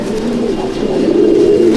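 Pigeons in a Malwai breeding loft coo steadily in a low, continuous murmur, close and fairly loud, with no talking.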